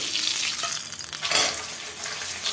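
Masala frying in a pan over lowered heat for hotel-style chicken salna, a steady close sizzle with a brief louder burst of stirring midway, no voices.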